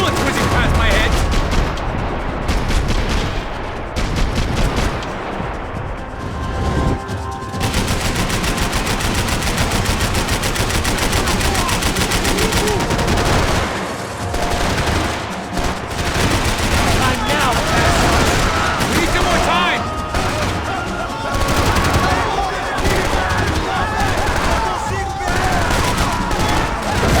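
Dense, loud gunfire in the action video game Max Payne 3, rapid machine-gun bursts and repeated shots with short pauses, mixed with game music and a voice speaking at times.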